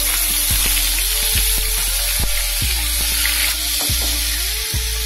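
Butter goes into hot oil in a pan and crackles and sizzles loudly and close up, with steady spitting and a few clinks over the top as the fat melts.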